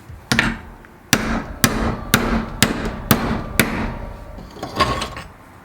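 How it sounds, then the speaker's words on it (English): A hammer strikes a metal bracket held in a vise to bend it, about eight sharp, ringing blows at a steady pace, close and loud, with a short pause before the first and a softer tap near the end. "I'm just simply using the vise and a hammer to make a bend in one of these brackets."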